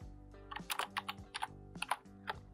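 Quick keystrokes on a computer keyboard while entering program code, a rapid run of sharp, close clicks with brief pauses between bursts.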